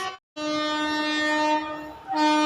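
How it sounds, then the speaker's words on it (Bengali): A loud, sustained Indian Railways express train horn blaring close by, a steady tonal blast that shifts slightly near the end. "হর্নটা শুনুন একবার শুনুন"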